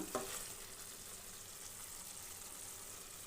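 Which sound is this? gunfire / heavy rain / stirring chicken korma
stirring chicken korma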